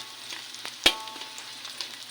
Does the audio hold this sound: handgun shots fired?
no